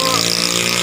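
A motorcycle running without a silencer, its engine roaring loud and steady and close, filling the whole brief moment.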